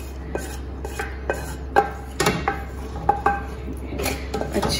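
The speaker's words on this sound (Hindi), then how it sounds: "अच्छी तरह से हम अपने बर्तन को साफ करके उसका वो निकाल लेंगे मसाला सारा" A metal utensil scrapes chicken masala out of a cooking pot while making chicken biryani, giving irregular clinks and scrapes against the metal, close and moderately loud, with no speech.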